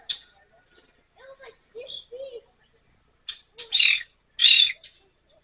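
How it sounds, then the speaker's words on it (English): Evening grosbeaks call from a backyard feeder area with short, clear chirps and squawky notes in scattered bursts. The loudest calls come near the end, and there is no talk. "These evening grosbeaks are new this week."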